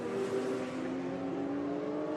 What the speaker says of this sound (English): they make a beautiful sound roaring around the hills of Monterey